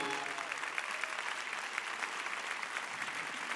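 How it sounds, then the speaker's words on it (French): Steady applause fills the room for a bank's management team as they come on stage at a Bpifrance closing event, dense and continuous throughout, with a faint voice briefly audible near the start. "je vais demander à l'équipe de venir sur scène avec moi et vous allez les applaudir"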